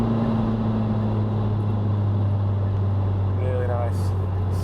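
A heavily tuned 402 bhp Skoda Fabia vRS with a 1.9 TDI diesel engine, driving with a steady, loud low engine drone and road noise throughout, heard from inside the car, with a brief voice near the end.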